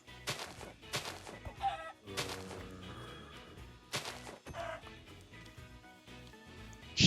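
Chickens in the video game Minecraft, with short clucking sounds among sharp hit and crash effects and game music, fairly faint and uneven, with no talking.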